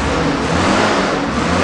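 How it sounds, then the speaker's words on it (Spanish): A 2003 H80XM forklift with a six-cylinder Sportec engine running on LP gas roars in a short, steady burst, loud and close. "El motor es Sportec en 6 cilindros."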